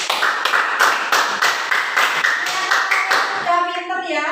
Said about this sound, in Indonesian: Tepuk tangan untuk Mbak Hanifah